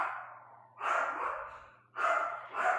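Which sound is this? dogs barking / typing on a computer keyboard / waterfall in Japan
dogs barking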